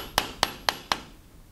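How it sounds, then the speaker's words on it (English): Four sharp, evenly spaced knocks ring out close by within about a second, as screws are driven to fasten a projector wall bracket held with toggle straps during a Hitachi ultra short throw projector installation. "we're just securing the bracket with the screws"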